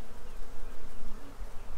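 Honey bees buzz at a hive inside a tree, a dense, close, steady drone that pulses slightly in loudness, with no voices.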